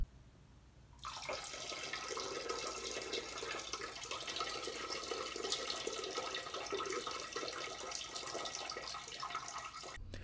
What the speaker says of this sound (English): let's hear a little excerpt from when I took a piss a couple minutes ago